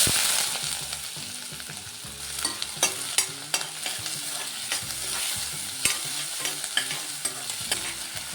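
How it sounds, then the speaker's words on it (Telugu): Onion fries in oil in a pan, giving a steady sizzle broken by repeated scraping clicks from stirring, heard close up with no one speaking. "ఆనియన్ కొద్దిగా పచ్చివాసన పోయేంత వరకు ఫ్రై చేసుకున్నామండి."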